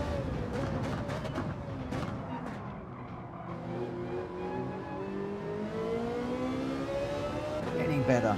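Ferrari race car engine in the video game Gran Turismo 7, a steady loud drone whose pitch rises and falls with revving and gear changes, with a voice speaking over it.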